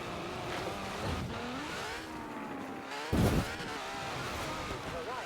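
Ferrari sports car driving in Forza Horizon 4, its engine revving and shifting with rising and falling pitch, loud and close, with a brief burst of extra noise partway through.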